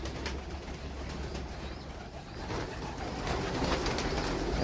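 Pigeons coo softly and repeatedly in a coop holding young chicks and nests with eggs, a steady low murmur over background noise with no voices.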